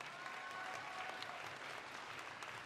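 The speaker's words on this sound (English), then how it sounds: "everybody give them a round of applause" A crowd at a JROTC awards ceremony claps steadily for the medal recipients, giving a dense, even applause that holds at a moderate distance throughout.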